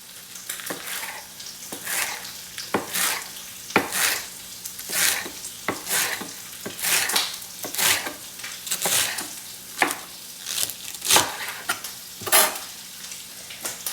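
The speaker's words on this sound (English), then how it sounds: "And you can hear my eels cooking in the background." Eels sizzling and frying in a pan at a low, steady crackle, overlaid by close, sharp, irregular knife chops on a board as Savoy cabbage is cut nearby.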